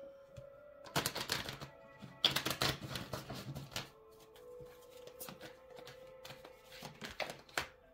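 Oracle cards are shuffled by hand, giving two dense bursts of riffling and flapping followed by softer, scattered card slides and taps, close and fairly quiet.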